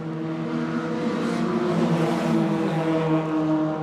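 A race car at QLD Raceway holds a loud, sustained engine drone with strong harmonic tones that swell slightly as it passes, close and continuous with no talking.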